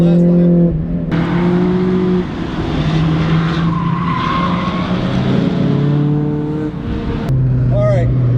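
A Mazda MX-5 Miata with an open differential and grippier new tires lapping a race track, its engine droning loudly through the gears with shifts and brief tire squeal, heard close from inside the car.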